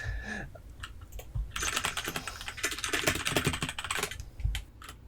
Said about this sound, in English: I can hear them typing.